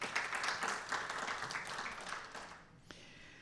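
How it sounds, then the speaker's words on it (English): A meeting audience applauds briefly and faintly, a light patter of clapping that tapers off after a few seconds. "Now you can applaud."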